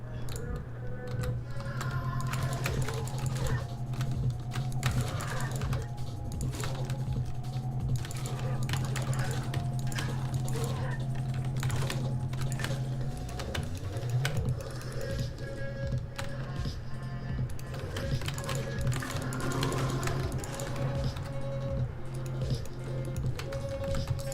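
Computer keyboard keys clatter in quick, irregular bursts during gameplay, a near, busy tapping layered over steady game music and sound effects.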